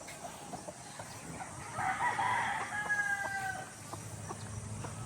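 A gamefowl stag rooster tethered on a farm near Bacolod gives a single faint crow in the distance midway through, surrounded by soft clucking and farmyard ambience.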